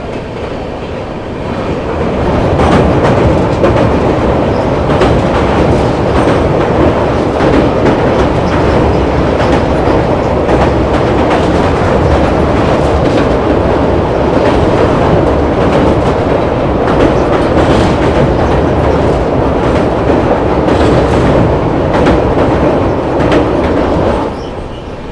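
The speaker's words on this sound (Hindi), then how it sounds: "जो सामने से ट्रेन अपने से क्रॉस होने आ रही है वो है दोस्तों MGR चेन्नई सेंट्रल गया वीकली सुपरफास्ट एक्सप्रेस।" The MGR Chennai Central–Gaya weekly superfast express passes close by, a loud continuous roar of wheels and rattling carriages with rhythmic clickety-clack lasting throughout, no talking.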